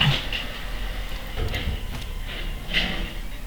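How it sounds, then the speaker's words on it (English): A garbage truck running outdoors gives a steady low rumble with occasional clanks and squeaks, heard behind the room at moderate level. "There's like a garbage truck behind me."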